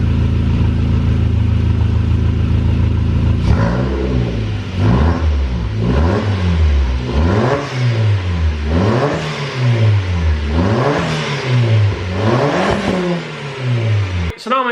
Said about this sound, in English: I'm just going to rev it just to see what it sounds like